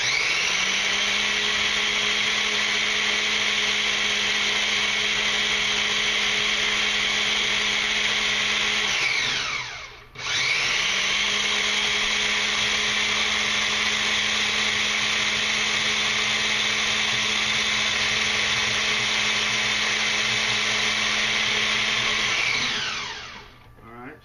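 Food processor blending eggs for apple bread, a loud steady motor whine running about nine seconds, a brief stop, then another long run that winds down at the end.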